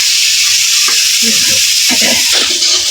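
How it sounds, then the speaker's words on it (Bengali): Onions frying in a pan as they are stirred, a loud continuous hiss of hot oil broken by a few scraping strokes of the spoon, close up with no talk. "এদিকে পেঁয়াজটিও ভাজা গেছে"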